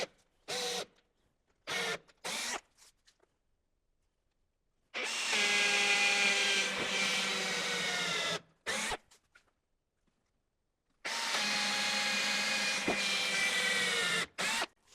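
A power drill bores holes into wood to cut a through mortise, with two long, loud whirring runs of several seconds each, preceded by a few brief start-up bursts, with silent pauses between and no talking.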